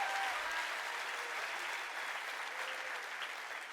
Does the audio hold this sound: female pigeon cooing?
no